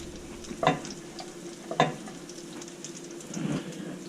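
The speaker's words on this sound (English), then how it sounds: "Just a nice low sizzle, because majority of this is already cooked." A low, quiet sizzle of food frying in a pan, with a few sharp clinks of a utensil stirring and scraping.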